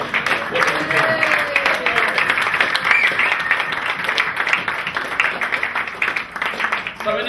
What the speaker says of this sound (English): I think they deserve a big round of applause for what they've done